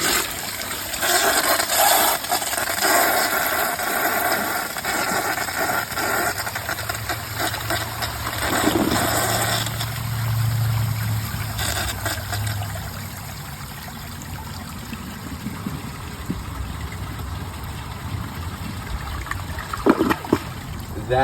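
A 2009 American Standard Gateway toilet with an overfilled tank and clogged siphon jet flushes in a loud, sustained rush of water, settling into a steady trickle and refill hiss.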